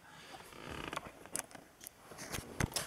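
A very short shifter in a big-turbo SR20-swapped Nissan Sentra is moved through the gears, giving a few close, dry mechanical clunks and creaks at uneven intervals inside the quiet cabin.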